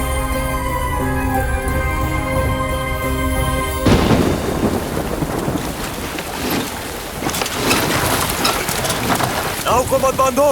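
Music gives way to a fierce riverside storm in a Hindi film scene, with heavy rain pouring down and thunder rumbling loudly and continuously.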